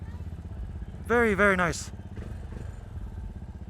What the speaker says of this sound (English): You can really hear the engine on this thing.